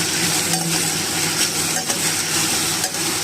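Garlic butter shrimp sizzling loudly in a pan while being stirred, a constant close frying hiss with soft scrapes and clinks of a utensil throughout.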